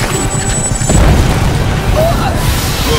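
Explosions boom during a video game boss fight, a loud rumbling blast under a shouting voice with crashing debris noise.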